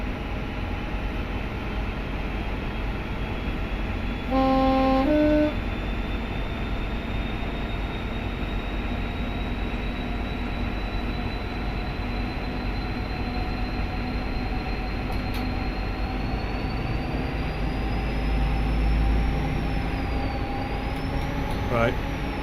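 HST diesel train engines drone in the Train Simulator Classic game, a steady low rumble with whining tones that slowly rise and fall, interrupted briefly by a short electronic alert tone.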